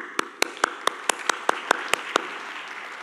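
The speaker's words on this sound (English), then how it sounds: "I'm going to give applause to this little function" Applause from a conference audience at a Python talk: about ten sharp, evenly spaced claps ring out over roughly two seconds against a low room hum, then the hands fall silent.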